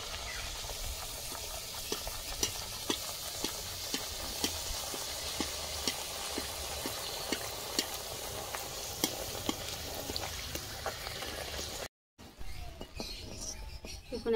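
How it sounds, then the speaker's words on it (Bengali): A madhupuri pastry fries in hot white oil in a wok, a steady close sizzle with small pops and crackles that drops away sharply near the end. "দেখুন একটা মাধুপুরি ছেড়ে দেবো তেলের মধ্যে।"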